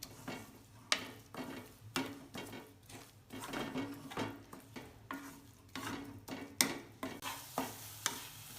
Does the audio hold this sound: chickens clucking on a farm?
no